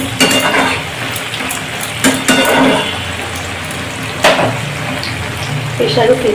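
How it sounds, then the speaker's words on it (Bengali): Tap water runs and splashes over dishes being washed in a home kitchen, with clinks and clatters of utensils at intervals and someone talking over the running water. "সেই বাসন ধুতে হবে"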